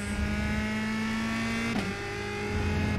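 Race car engine held at full throttle in the iRacing sim at Laguna Seca, a loud steady drone with a brief pitch dip near the middle as the gear shifts, then pulling on, no talk over it.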